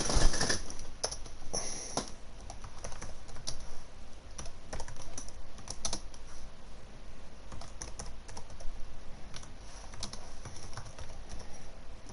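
Someone types on a computer keyboard in steady, close clicking bursts with brief pauses, lasting about twelve seconds without any speech.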